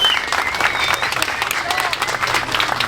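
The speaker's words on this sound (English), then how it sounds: "So a round of applause," A crowd at a drifting awards event applauds in a dense, continuous wash of clapping and cheering, loud and steady throughout, with a few faint whistles or tones over it.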